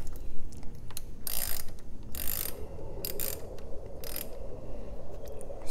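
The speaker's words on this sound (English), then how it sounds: "I'm also going to loosen the positive terminal as well using the same 10mm wrench socket that I have." Ratcheting clicks from a 10mm socket wrench loosening the positive battery terminal on a 2017 Toyota RAV4, in several short bursts of rapid clicking close by, separated by brief pauses.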